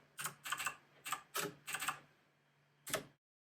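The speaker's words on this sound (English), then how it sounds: "All we have to do is type U at the prompt." Clicky keystrokes on a computer keyboard entering a command at a prompt, several quick taps in small clusters followed by a final single key press, close and clear with no voices.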